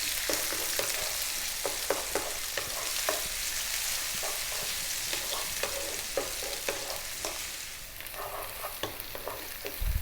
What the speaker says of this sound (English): We're now going to add 1 cup of onion, and we're going to go for about 4 minutes,